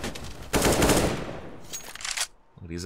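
Bursts of automatic gunfire ring out in a CS:GO match, a dense loud volley followed by a few scattered shots, with faint game noise between them.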